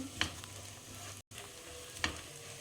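Green chillies frying with garlic in a hot pan, a steady close sizzle with two brief stirring scrapes and a short dropout midway.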